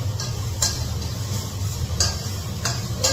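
Garlic being pounded in a mortar for a home-cooked dish, a few sharp separate strikes spaced irregularly over a low steady background hum, with no talking.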